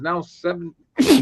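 A single sharp sneeze bursts out right after a few spoken words in a quiet interview room, close and brief.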